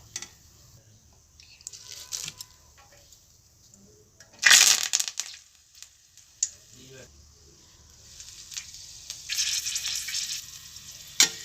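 Green chillies sizzling in hot oil, a soft continuous crackle with bursts of louder frying and stirring, while a person talks over it.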